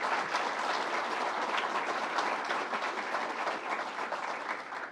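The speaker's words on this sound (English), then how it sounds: "Let's give her a round of applause." Dense, sustained clapping from an audience at a governor's bill-signing event, filling the whole stretch evenly at a moderate distance without voices on top.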